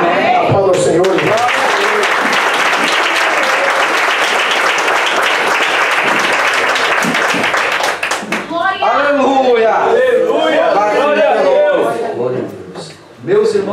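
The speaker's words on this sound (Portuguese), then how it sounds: "Aplauda o Senhor." A church congregation applauds loudly and steadily for about eight seconds, clapping densely and close, then voices and shouts of praise take over while the clapping thins and fades.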